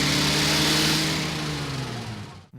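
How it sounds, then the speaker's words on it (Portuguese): The engine of a classic Chevrolet Opala on show at a car exhibition rumbles loud and close, a steady throaty drone that gradually fades before cutting off abruptly at the end. "Sinta o ronco deste motor"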